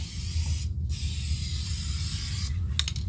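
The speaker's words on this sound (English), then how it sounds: "I'm just spraying away" An aerosol can of Duplicolor Cardinal Red base coat sprays onto a Ford Ranger rocker panel, a close, loud, continuous hiss with a brief break near the start and another pause toward the end.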